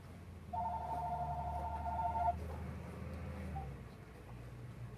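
A telephone rings at a guitar shop, one short, bright electronic trill lasting about two seconds, heard quietly over a low room hum.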